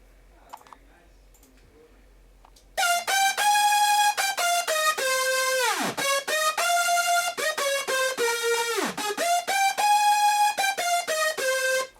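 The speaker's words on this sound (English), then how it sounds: "when you close the filter a little bit, it starts to distort on a different frequency" A lead synthesizer from a hardstyle production session plays a loud run of sustained notes after a quiet start, its tone shifting and distorting as the filter closes, with deep pitch dips around the middle and later on.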